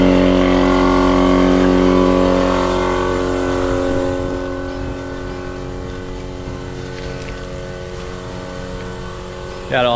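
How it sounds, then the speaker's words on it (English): An air compressor motor drones with a strong, steady low harmonic hum, loud at first and then easing somewhat to a lower level, with a brief sharp noise at the very end. "I'll plug my compressor in."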